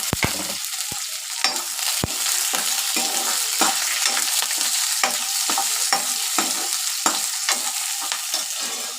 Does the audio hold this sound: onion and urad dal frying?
yes